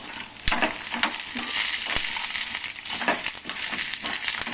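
Idli batter being stirred and mixed in a bowl, wet slapping and scraping sounds with frequent sharp clicks as the utensil hits the vessel, close and fairly loud, with no voice.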